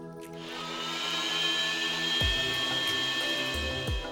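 Electric blender grinding poppy seeds and cashews with a little water into a paste, a steady high motor whine running throughout with shifting low-end churning and brief load changes near the end.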